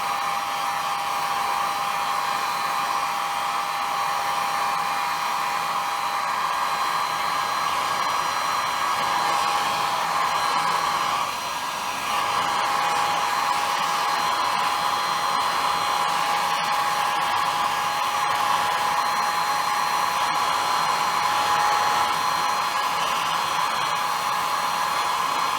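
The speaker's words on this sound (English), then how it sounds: "what I think is really useful is to just dry it with a hairdryer" A hairdryer blows steadily at close range while drying a scale model kit of a Hawker Hurricane, a constant whooshing hum with a high whine that continues without pause.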